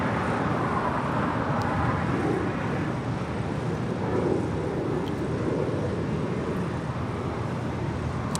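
A Japan Airlines Boeing 787-8 Dreamliner arriving at LAX from Tokyo Narita produces a steady, broad jet roar, a continuous rumbling wash of engine and air noise that holds evenly throughout with no speech.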